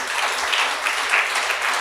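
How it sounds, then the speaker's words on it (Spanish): Church congregation applauding during a Pentecostal service, a dense continuous wash of clapping from many people that holds steady throughout, fairly loud and close with no speech over it. "Dale un aplauso al Rey de Gloria"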